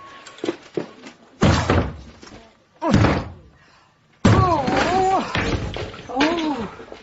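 A door is forced open with a fire extinguisher: heavy slams and thuds land in separate bursts, close and loud, with people talking between and over the blows.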